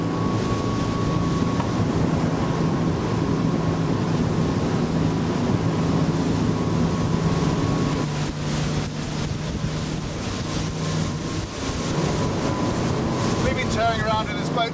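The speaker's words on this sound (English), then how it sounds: "Tearing around in this boat most of the day" A Windy 39 Camira motorboat roaring across open water in strong wind, engine drone and hull rush loud and steady, with a dip in the middle, gusting wind buffeting the microphone.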